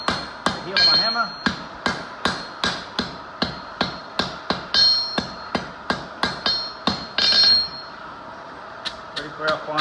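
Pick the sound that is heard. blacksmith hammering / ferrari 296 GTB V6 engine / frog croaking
blacksmith hammering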